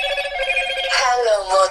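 A telephone rings with a bright, repeating electronic tone, loud and close, lasting the whole short moment.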